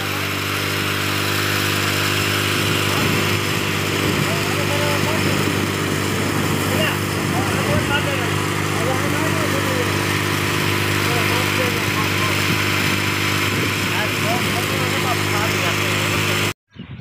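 A tractor engine running while the tractor is being washed, a steady, fairly loud drone that holds evenly for the whole stretch and cuts off abruptly at the end, with voices faintly over it.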